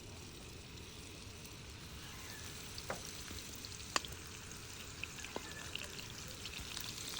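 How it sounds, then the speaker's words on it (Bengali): Rohu fish pieces and a fish head fry together in a large wok, a soft, continuous sizzle of hot oil with a few faint pops and taps, no speech. "তো দুটোই একসাথে ভেজে নিব, কারণ কড়াইটা আমার ভালোই বড় আছে"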